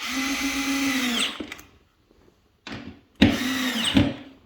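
A power drill whirs loudly for about a second, winds down into silence, then gives a short burst and another sustained whir up close, while working on a C6 Corvette's automatic shifter assembly.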